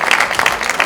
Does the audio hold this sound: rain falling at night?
no